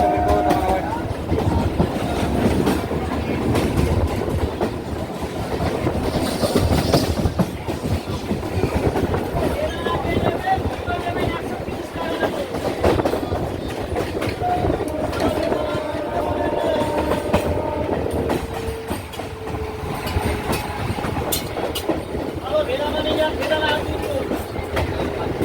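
A train rolls along the rails with a loud, continuous rumble and rattle of carriages and rhythmic clatter close by, with faint voices mixed in throughout.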